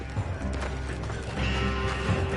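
Horses trot with a steady clip-clop of hooves in Red Dead Redemption 2 amid busy game-like background noise, fairly close and continuous.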